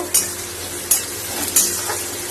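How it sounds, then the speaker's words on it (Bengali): Onion frying in oil in a wok, a continuous close sizzle with three sharp metallic scrapes and taps of a spatula stirring against the pan. "এই যে পেঁয়াজটা একটু ভেজে নেব"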